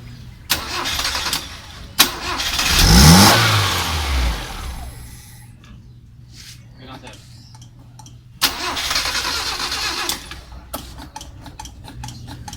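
A Kia engine with heavy blow-by smoke from the breather cranks and catches, revs up with a rising roar, then settles into a low idle; someone talks briefly.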